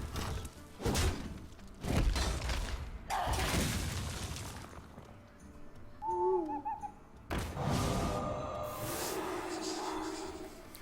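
Owl hooting from the Hearthstone card game, a short pair of soft, low hoots in the middle of a busy stretch of game effects, with thumps and bursts before and after.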